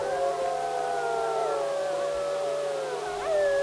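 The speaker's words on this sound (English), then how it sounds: "as the bellowing screams and howls were amplified in the darkness." A pack of gray wolves howls together at night in wetland woods, several long overlapping wavering howls sliding up and down in pitch, sustained and fairly loud with no talk.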